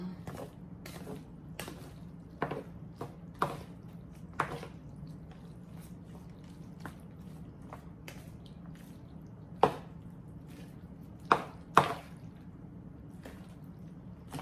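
A bowl of macaroni and cheese ingredients, including aged cheddar powder, is stirred, with soft wet squishes and scattered clicks of the utensil against the bowl over a faint low hum.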